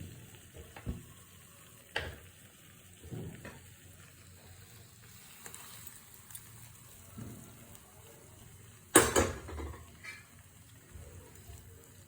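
Hot tempering poured into a jackfruit curry, a sudden loud hiss and sizzle burst that fades quickly, set among quieter scattered kitchen knocks and clatter, close by with no talking.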